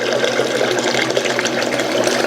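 Clean water runs through a GSEICE soft serve ice cream machine during its first use, a loud, steady close-up gush and trickle.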